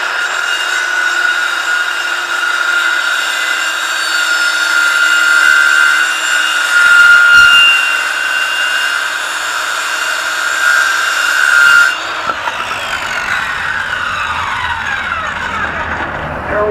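A homeowner-grade power saw cuts a wood leg for a plant bench, a loud continuous high whine holding steady for about twelve seconds before the blade spins down.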